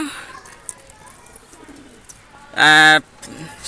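A single loud, close coo from a pigeon among birds offered for sale breaks a fairly quiet background near the end, lasting under half a second.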